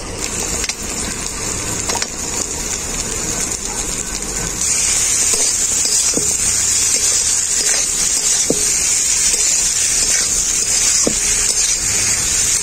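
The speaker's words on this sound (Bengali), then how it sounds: "এরপরে এর মধ্যে দিয়ে দেবো ভেজে রাখা চিংড়ি মাছ।" Fried prawns tipped into a pan of potato curry, with a steady hissing sizzle that grows louder partway through, dotted with faint clicks, and no talking.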